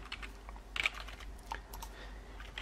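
A message is typed on a computer keyboard with light, irregular clicks of keys, close and fairly quiet. There are a few brief pauses and one louder cluster of presses, and no speech.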